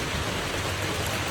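Steady rain pours on a house roof during a wet spell, a dense even hiss with no breaks, close and continuous for the whole stretch.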